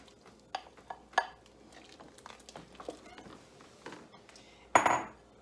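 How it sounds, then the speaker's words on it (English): A spoon stirs a pot of Mexican vegetable soup, making a few sparse clinks and scrapes against the pot and a louder rattling scrape near the end, with quiet gaps between them. "Give it a stir."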